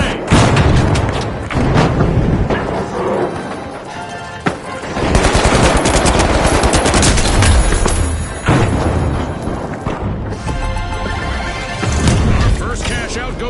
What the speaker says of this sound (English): Using gas grenade.